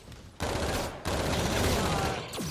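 Rapid gunfire in the game Space Land comes in loud, dense bursts with a brief pause between them, ending with a falling electronic tone.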